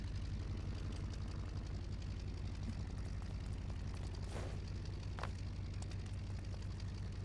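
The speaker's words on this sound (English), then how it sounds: "Sounds like a very meaty diesel engine you've got there." A diesel engine in the Stormworks game runs steadily, a low throbbing rumble with faint mechanical hiss, quiet and continuous with no speech.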